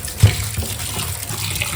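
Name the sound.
washing chicken under running tap water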